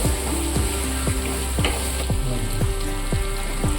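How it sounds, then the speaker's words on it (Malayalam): Fish frying in oil in a pan, with a loud, constant close sizzle and a regular series of sharp spatters, about two each second, and no talk. "എണ്ണയിൽ കിടന്ന് നന്നായി മൂത്തു വരുന്നുണ്ട്."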